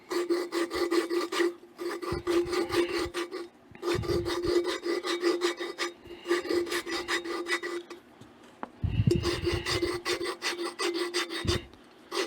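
Engine valve stem on a Waterloo Boy 5 hp engine twisted back and forth against its seat with silicon carbide lapping compound, making close, rhythmic gritty rasping strokes in repeated bursts with brief pauses.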